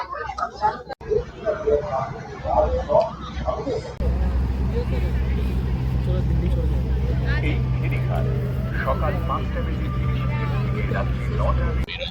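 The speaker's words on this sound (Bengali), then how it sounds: "আমরা হচ্ছে কি লঞ্চ পার করে এই পাশে চলে এসেছি, 5 মিনিট মতো সময় লেগেছে" A river ferry launch crossing with its engine droning, a steady low rumble that takes over after an opening stretch of nearby chatter and continues under occasional voices.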